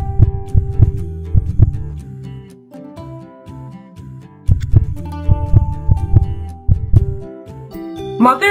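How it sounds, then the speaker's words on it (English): A mother's heartbeat in a pregnancy video game, a loud, regular double thump that repeats steadily over a soft tonal hum with a brief chime near the end. "Mother heartbeat is normal."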